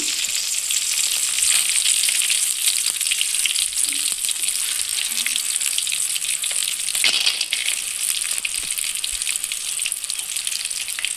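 Peanuts roasting in a pan for Andhra-style peanut chutney give off a dense, continuous crackling sizzle, close and steady throughout with only small flickers of louder pops.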